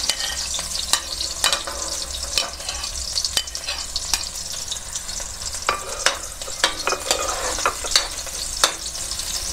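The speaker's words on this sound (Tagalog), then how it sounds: "Papulahin muna po natin ng ating bawang at sibuyas para lumabas ang kanilang mga aroma." Garlic and onion sauté in a pan for shrimp chop suey, giving a steady close sizzle broken by repeated sharp clicks and scrapes of stirring, with no talking.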